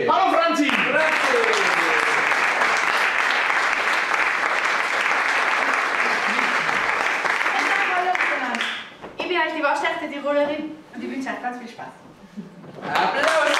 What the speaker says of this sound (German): Und zwar Applaus für die Franzi!